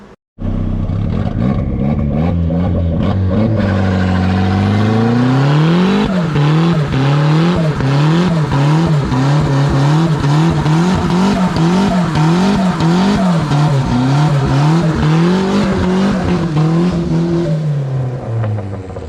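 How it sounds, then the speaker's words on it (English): A turbocharged 1.6-litre Mazda Miata doing a burnout: the engine revs up and holds high, bouncing at the limiter, as tires squeal and skid continuously, loud and close for nearly twenty seconds. "that little clip of me doing a burnout on this thing"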